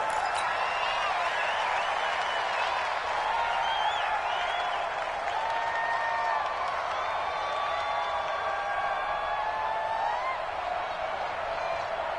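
Dense roar of a football stadium crowd cheering and applauding at a Seahawks versus Packers game, a steady loud wash of voices with whistles and whoops throughout.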